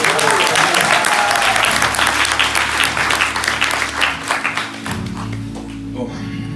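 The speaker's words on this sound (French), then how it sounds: "Allez, on peut applaudir." Applause from the congregation at a church baptism service, dense clapping that fills most of the clip and then thins out toward the end.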